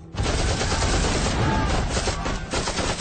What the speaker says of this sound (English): Bullets cracking, bombs landing, artillery shells exploding, people screaming.